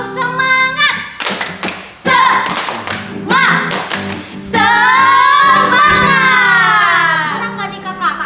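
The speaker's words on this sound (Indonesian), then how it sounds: "Tepuk semangat dulu." Children join a rhythmic tepuk semangat clap at an online Sunday school service, with quick patterned hand claps and lively voices calling and singing over them, loud and close.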